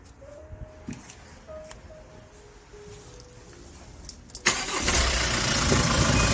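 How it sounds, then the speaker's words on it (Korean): A car engine cranks and catches at about four seconds, then settles into a steady idle, loud and close, with a few faint clicks before the start. "시동을 한번 걸어 볼게요"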